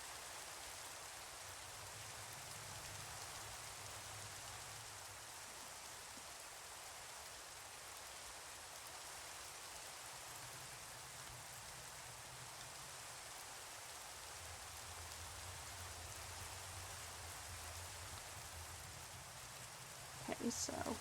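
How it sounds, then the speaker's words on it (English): Steady heavy rain pours continuously in a video game, a dense hiss of falling water with faint low rumbles underneath, ending with a brief clatter. "Just leave my horse tied outside in the pouring rain."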